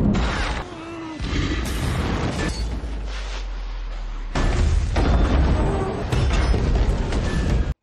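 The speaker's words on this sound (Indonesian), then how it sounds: "Truk tangki yang ditabrak Fong meledak" A tanker truck blows up in the 2023 action film Hidden Strike, with loud, booming blasts and crashing bursts layered over a dramatic soundtrack, several surges of heavy roar following one another.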